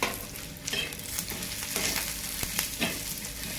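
Black masala, coriander seeds and chilies sizzle and fry in a clay pot, a steady close crackle with occasional stirring scrapes and no voices.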